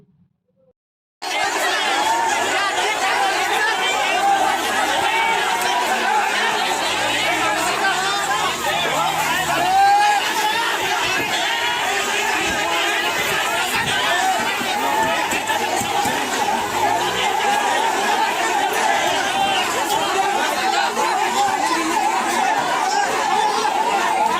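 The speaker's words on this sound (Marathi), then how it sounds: "आखीवाटमध्ये बघ्यांची मोठ्या प्रमाणात गर्दी जमली असून" Large crowd of onlookers gathered near floodwaters where a tractor trolley overturned, many voices chattering in a loud, continuous babble with occasional laughs after a brief silent start.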